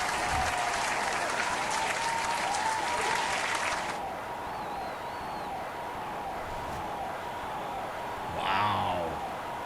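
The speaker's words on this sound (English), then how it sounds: "Crowd won't even shut up. They're still cheering" A crowd cheers and applauds after a boxing fight, a dense roar of clapping that drops sharply partway through to a quieter lingering crowd hum, with faint voices and a short louder swell near the end.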